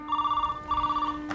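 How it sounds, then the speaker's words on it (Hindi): Telephone bell ringing in a TV drama scene, two steady trilling rings with a short break between them, fairly loud and clear, with a brief burst of another sound at the end. "इंदर तुम्हारा फोन है यार।"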